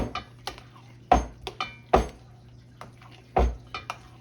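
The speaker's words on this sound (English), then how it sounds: "So put my eggs in here, fold them in there nicely." A spoon clinks and scrapes against a bowl while eggs are folded into a cornbread dressing mixture, with a series of close, irregular knocks and wet stirring.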